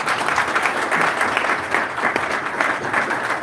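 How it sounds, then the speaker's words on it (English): At a corporate partnership event, a seated crowd bursts into sustained applause, dense and even, with a few sharper claps standing out near the listener. "Another round of applause for"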